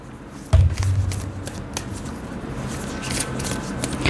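Tarot guidance cards being shuffled by hand, a steady papery riffling and flicking that runs for about four seconds after a soft start, close and fairly quiet with no talking.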